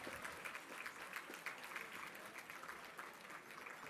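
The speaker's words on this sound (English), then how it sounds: "big applause" Audience applause at an award dinner, a steady wash of many hands clapping that holds evenly for a few seconds at moderate distance, with no voices over it.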